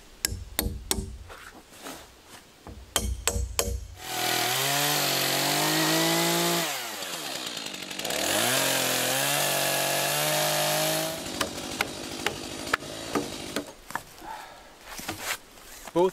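A chainsaw cuts through a log for a log shelter wall, roaring steadily in two long passes with a dip between, bracketed by knocks and handling clatter; a voice speaks briefly at the start.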